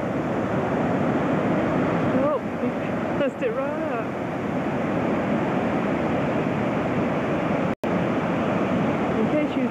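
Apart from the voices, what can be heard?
ocean waves breaking on a California beach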